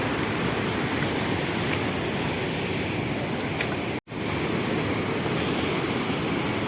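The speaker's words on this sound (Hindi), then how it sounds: "देखो नीचे बाढ़, इतना भयंकर पानी है" Rushing floodwater of a river near Rambara on the Kedarnath route roars as a dense, steady broadband wash heard from high above, continuous with one brief dropout and no voices.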